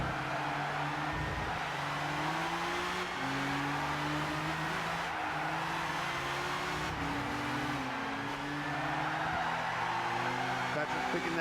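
Race cars in Gran Turismo 6 at Silverstone drone steadily through their gears, engine tones rising and shifting continuously with faint tire noise, loud and constant throughout.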